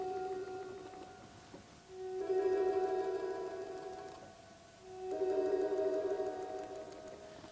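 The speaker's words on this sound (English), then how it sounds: "the Ondes Martenot has these very mysterious trills" An ondes Martenot plays sustained electronic tones that swell into wavering trills twice, heard fairly softly in a quiet room.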